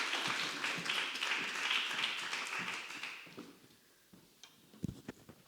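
Audience applause welcoming a speaker at a lecture event, moderate clapping from a modest crowd that fades out after about three seconds, followed by scattered taps and small handling noises.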